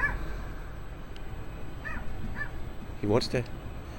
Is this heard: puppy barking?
yes